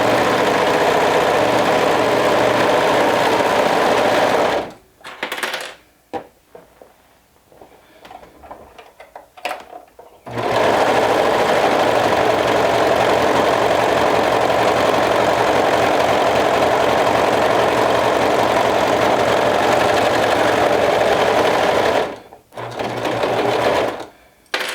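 Sewing machine running steadily through shoulder seams with a 1/2 inch seam allowance on a sporty top, loud and close, a continuous whir that pauses for about five seconds midway and briefly near the end.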